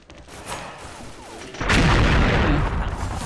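A sudden loud grenade explosion in the online shooter game XSHOT bursts in and rumbles on, following a quieter stretch of game ambience.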